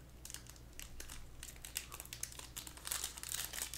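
A basketball card pack wrapper being torn open up close, with crisp crinkling and crackling foil plastic in irregular bursts, fairly quiet and without talk.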